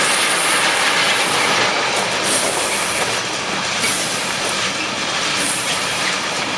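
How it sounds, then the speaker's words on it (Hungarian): Two trains pass close by with a loud continuous rumbling roar and faint wheel squeal, one a Gigant locomotive hauling a freight train. No one speaks. "Jaj, 2 vonat jön, egy gigant húz egy tehervonatot."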